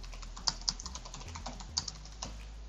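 Close, quiet clicks of a computer keyboard as a customer name is typed into an OutSystems app, with a few distinct keystrokes standing out in a short burst and no voices.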